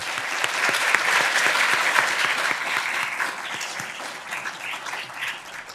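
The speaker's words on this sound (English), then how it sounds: "How about a round of applause, guys?" Steady applause from the audience at a moot court competition final, many hands clapping in a thick, continuous patter that gradually thins toward the end.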